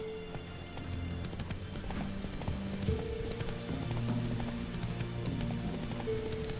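Horse galloping in The Witcher 3 video game, steady rapid hoofbeats with occasional snorts over continuous game ambience and music, fairly loud throughout.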